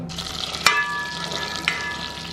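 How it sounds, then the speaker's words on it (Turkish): Oil and butter hitting a hot soup pot give a steady, close sizzle, with two brief clinks of utensil on metal, no voices. "Öncelikle sıvı yağımı döküyorum içine."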